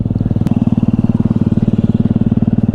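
A motorcycle engine runs steadily with a fast, even pulsing beat at close range, its throttle cable loose and disconnected.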